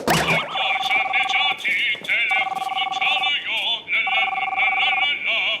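A mobile phone rings loudly in a comedy scene, a warbling electronic ringtone repeating in bursts across the clip, close and prominent over light background sound.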